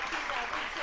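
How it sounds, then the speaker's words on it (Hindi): Applause from a studio audience on a Pakistani morning TV talk show, a dense, steady wash of clapping that fills the whole short moment. "इस बात पे तालियां लेंगे।"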